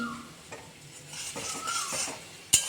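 Garlic paste thinned with a little water is stirred in hot oil, giving a gentle sizzle under scraping spoon strokes against the pan and a sharp metallic clink at the end.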